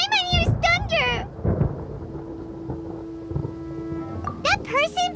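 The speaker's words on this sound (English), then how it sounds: "Paimon hears thunder!" Rumbling thunder in the video game Genshin Impact, low booming crashes mixed with rain and wind, overlaid with music and game effects.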